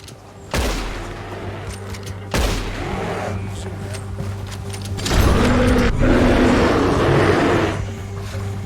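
Gunfire in the video game Red Dead Redemption 2: two loud booming shots, then a louder sustained burst of firing in the later half, heavy and close, with faint voices at moments.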